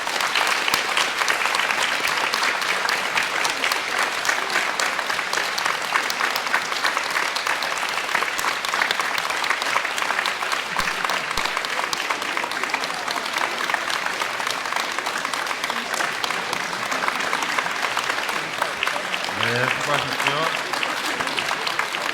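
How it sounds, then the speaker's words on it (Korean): Sustained applause fills a Catholic church during a newly ordained priest's first Mass as a flower child presents a wreath, dense and even clapping from the congregation throughout, with faint voices mixed in near the end. "박수 부탁드립니다."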